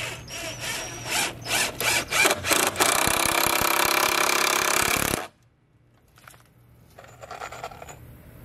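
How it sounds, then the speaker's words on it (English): Close, loud burst of a screw being driven into wood with a power driver for reinforcement, starting with a few short bursts and then one sustained whir of several seconds before stopping abruptly, followed by faint handling noise. "Just put a regular screw in there."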